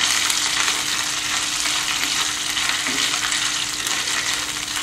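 Ginger and green chilli frying in a pan give a loud, dense, continuous sizzle with a faint steady hum underneath, close up and without talk.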